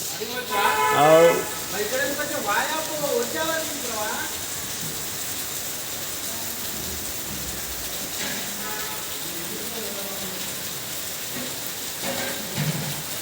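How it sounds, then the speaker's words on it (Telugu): Steady rain hisses outdoors throughout, a continuous wash of noise with voices talking over it at the start and briefly near the end. "ఇక్కడ మబ్బుంది చూడండి వర్షం పడుతుంది బయట"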